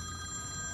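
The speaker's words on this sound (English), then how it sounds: "the music will pause and you're gonna hear a ring." A phone call rings through a Bluetooth car kit in a 2006-2008 Honda Fit, a steady electronic ring tone heard alone for under a second, with a faint background hum.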